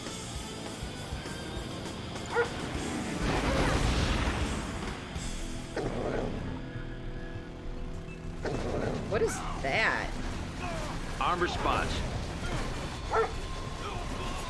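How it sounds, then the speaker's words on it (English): Attack dogs in the real-time strategy game Command & Conquer: Red Alert 3 bark and yip in short bursts amid battle sounds and weapon fire, with in-game unit voices and a player talking over them. "Dogs, go after that guy."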